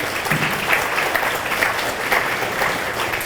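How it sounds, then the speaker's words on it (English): Dense, sustained applause fills a high school hall of fame ceremony, a crowd clapping steadily and loudly throughout without any speech. "Now that deserves a round of applause."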